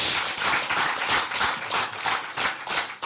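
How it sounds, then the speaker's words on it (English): A conference crowd breaks into a loud, continuous round of applause for an honoured guest, with rhythmic swells of clapping filling the hall and no talk over it. "Give him a round of applause."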